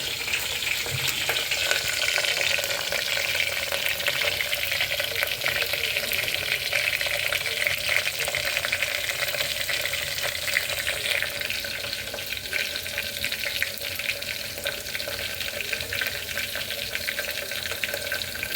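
A finely chopped onion sizzles and fries steadily in a pan, a dense continuous hiss close by with faint stirring scrapes throughout, no voices.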